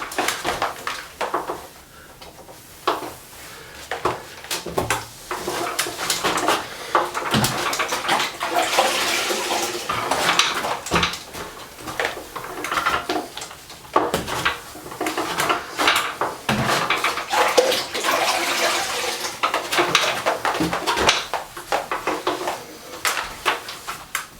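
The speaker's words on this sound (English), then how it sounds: "Rinse your sponge off." A grout sponge is rinsed and wrung in a bucket of water, with steady sloshing, splashing and dripping that run continuously for over twenty seconds, close and fairly loud, joined by occasional knocks against the bucket.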